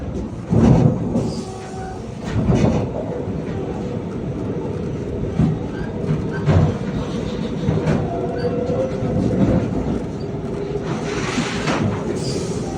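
The Sanghamitra Express passing near KR Puram station: a steady loud rumble with rhythmic clattering of wheels over rail joints, heavy bursts early on and continuous rolling noise throughout.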